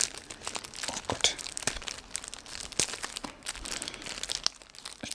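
Adhesive tape peeled from the packaging of Yamaha HPH-MT8 studio monitor headphones, with constant close plastic crinkling and brief tearing bursts, loud and busy throughout, no voices.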